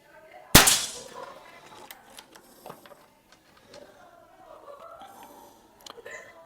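A PCP air rifle fires a single pellet shot, a sharp loud crack near the start followed by faint clinks and quiet rustling, with soft talk around it.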